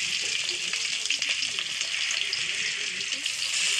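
Chopped onion, green chili and garlic fry in oil in a pan over a village clay stove, producing a dense, continuous sizzle with faint stirring clicks, close and alone.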